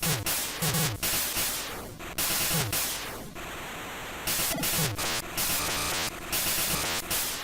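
Harsh 8-bit shooting and explosion effects from Dropzone on the Game Boy Color, loud and busy, with bursts of noise, falling zaps and short gaps, no talking.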